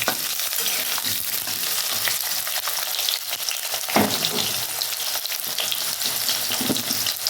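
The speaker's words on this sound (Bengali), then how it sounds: "আলু পেঁপে শক্ত জিনিসগুলো আমি আগে একটু ভেজে নেব" Potatoes and papaya fry in a pan of hot oil for a Bengali shukto, giving a steady loud sizzle with occasional stirring scrapes throughout, no voices.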